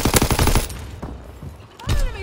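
Rapid machine gun bursts rattle loudly in a video game battle, then a few scattered shots follow, with shouted voices over the fire.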